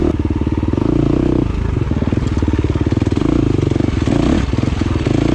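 A KTM dirt bike racing over tight, choppy winter terrain in a six-hour Ironman race in North Carolina, its engine a loud, close, throbbing drone that stays steady with brief dips as the rider works the throttle over bumps.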